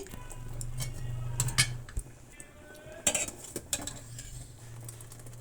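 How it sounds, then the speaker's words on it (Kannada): Four tomatoes are cut with a knife for a ridge gourd huli sambar, producing a few irregular, quiet taps and clicks against a board over a low steady hum. "ಈಗ 4 ಟೊಮೆಟೊ ಕೂಡ ನಾನು ಕಟ್ ಮಾಡಿ ಹೀರೆಕಾಯಿ ಜೊತೆಗೇ ಹಾಕ್ತೀನಿ."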